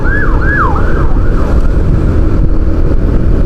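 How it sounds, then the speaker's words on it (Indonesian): An ambulance siren wails on a road in Banjarnegara, Indonesia, its rising and falling tone repeating several times and fading as it passes, over steady traffic and engine rumble. "Jadi ada ambulan, kita ngalah aja."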